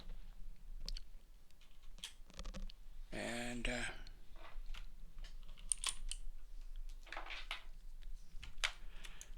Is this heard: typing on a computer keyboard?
yes